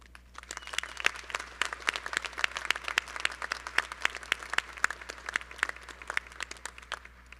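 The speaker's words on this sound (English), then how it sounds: "Please join me in giving our staff a heartfelt round of applause" A small audience at a law school commencement claps steadily, a dense patter of applause from a modest crowd heard at moderate distance without voices.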